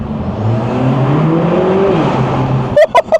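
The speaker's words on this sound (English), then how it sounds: "I'm going to have a listen to this turbo through here." Interior of a 2025 Lotus Emira Turbo SE on the move: a loud, rising engine and turbo whir builds steadily, then cuts into three sharp bursts as the revs drop near the end.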